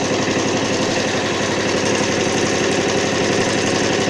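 Homemade inverter generator engine running under the load of a 300 W bulb, a loud, steady, rapid chugging drone that continues without pause and has no speech over it.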